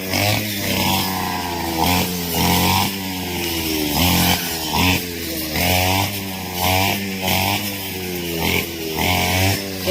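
A motorized grass cutter runs loudly and steadily while clearing a garden, its engine droning with repeated surges in pitch and power throughout.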